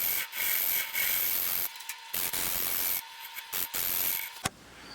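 A cherry wood bowl is turned and shaped on a lathe, producing a steady close rushing hiss of the tool cutting the spinning wood, broken by several short pauses and a sharp tap before the cutting stops.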